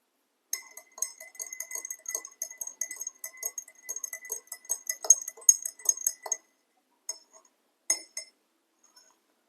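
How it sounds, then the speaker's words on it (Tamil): Spoon stirring oil and water in a glass, a rapid run of light metallic clinks and ticks for about six seconds, then a few scattered taps as it slows. "ஸோ இப்போ இந்த ஆயிலி வாட்டரையும் மிக்ஸ் பண்ணி பார்க்கலாம்."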